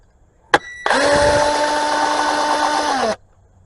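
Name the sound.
power tool loosening bolts on Dodge Journey oil filter housing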